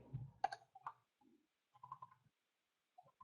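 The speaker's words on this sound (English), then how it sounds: "Somebody's typing" Someone typing on a computer keyboard during an online webinar, a few scattered, sparse clicks and taps spread over a few seconds, faint and close, with no talk.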